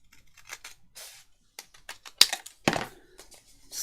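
Scissors trimming two sheets of paper at a time for a junk journal, a series of short crisp snips in close, quiet room tone with no talking.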